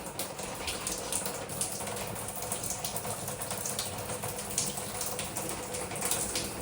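Shower water running at full blast from a disconnected shower line fed by PEX supply, a steady broadband rushing spray that stays constant and fairly loud throughout, with no talking.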